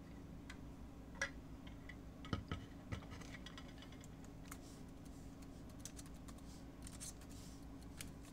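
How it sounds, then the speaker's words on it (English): Quiet, sparse keystrokes on a computer keyboard, a few scattered clicks and taps over a low steady room hum, with no talking. "Typing on a computer."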